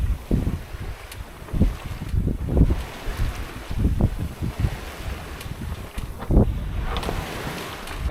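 A sailboat runs wing-on-wing with a whisker pole in a light southerly breeze on the open sea off Baja, with soft water rush, hull slaps and gusty wind buffeting the microphone throughout.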